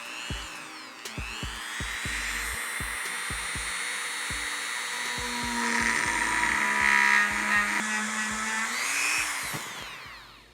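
A high-pitched rotary grinder with a grinding stone bit whines steadily against motorcycle metal, rising in pitch and intensity midway, with a faint rhythmic ticking underneath.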